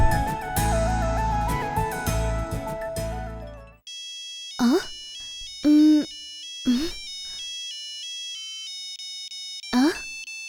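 A mobile phone ringtone sounds in a few short melodic bursts with gaps between them, following loud music that cuts off.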